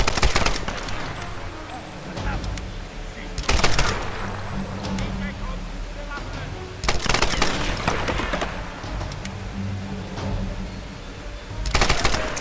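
Bursts of automatic gunfire from the video game Tomb Raider come in three or four loud volleys spread across the stretch, with game noise filling the gaps between them.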